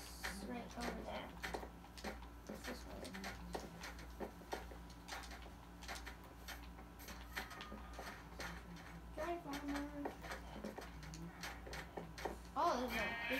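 Sheep bleating in the video game Minecraft, a few short bleats standing out over busy game noise and background music, with a voice talking now and then.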